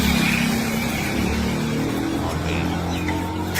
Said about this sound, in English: The sound of the cars really sets the ambiance for it.